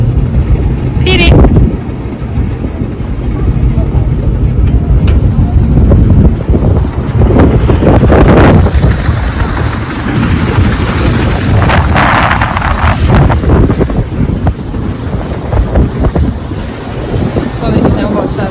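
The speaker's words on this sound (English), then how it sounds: "The breeze is incredible." Strong breeze buffeting the microphone at a waterside dock among sailboats, a loud continuous roar of gusting wind with rushing surges and faint background voices.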